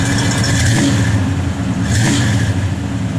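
A 1966 Pontiac GTO engine revs steadily and loud at close range, a deep throaty rumble with one throttle blip partway through, no talk over it.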